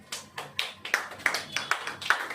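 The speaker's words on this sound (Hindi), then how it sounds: "ताली बजाइए।" A church congregation claps hands during loud worship, a run of roughly seven sharp claps in an irregular, quickening rhythm, close and fairly loud with no talk over them.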